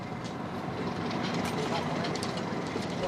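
A British Rail train creeps slowly beneath overhead electric wires, giving a low steady rumble with faint higher rattles and hiss, moderately distant and continuous.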